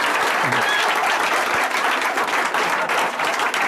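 A large audience bursts into loud, sustained applause, a dense wash of clapping that stays strong throughout.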